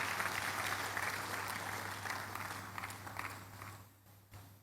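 Congregation at a church service applauding together, a dense, steady wash of clapping that holds loud for several seconds, then thins and fades toward the end.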